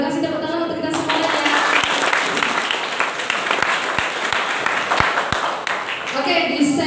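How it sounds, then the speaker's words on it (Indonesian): A seated audience at a school teaching session claps in steady, dense applause for several seconds, with a person speaking just before and after it. "terima kasih tepuk tangan untuk kita semuanya."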